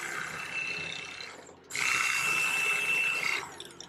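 An electric fillet knife buzzes steadily as it cuts through a northern pike, pausing briefly before whining again at close range with a higher, strained tone.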